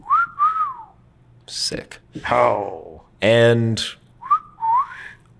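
Whistling from a person on a call-in comedy podcast: short melodic two-note whistles at the start and again near the end, close and clear, with conversation and exclamations between them.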